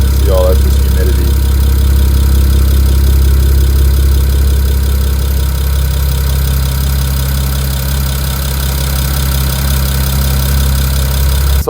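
A BMW 335i with the N54 engine idles steadily during warm-up, a loud, continuous low rumble with a slight rev near the start, close by and alone.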